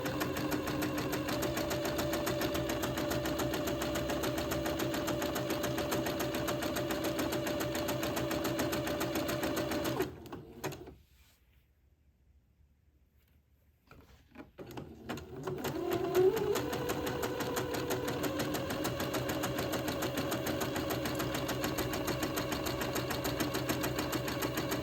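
A sewing machine runs a zigzag stitch along the edge of a baby dress, its steady close mechanical whirr humming continuously, then stopping for a few seconds of near silence before resuming, with no talking.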